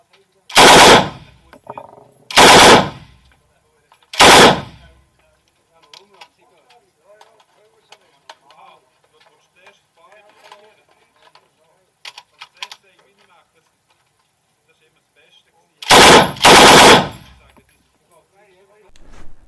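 A Bren light machine gun firing several loud, close bursts: three near the start, then a long pause filled with faint metallic handling noises before a final pair of bursts.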